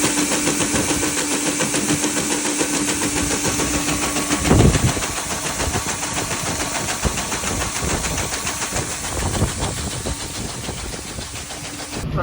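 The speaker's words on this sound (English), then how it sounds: "I'm still driving the loader tractor on the grain cart" A loader tractor pulls a grain cart across a Kansas field during harvest, its engine droning steadily and loud, with rattling mechanical knocks and a brief thump partway through.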